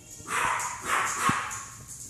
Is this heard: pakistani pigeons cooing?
no